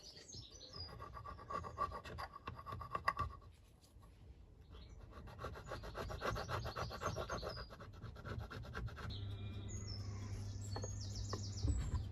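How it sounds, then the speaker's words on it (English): A Motion Pro gasket scraper rasps steadily over old gasket material on the engine casing of a 1987 Honda CR125, a close, continuous scratchy rubbing lasting several seconds with a brief pause, no talking. "I'm just going to clean all the gasket surfaces off because there's loads of it still on. Motion Pro gasket scraper is the tool for the job."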